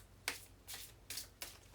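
Tarot oracle cards being shuffled: four quick riffling bursts spaced evenly, soft and near, with no speech over them.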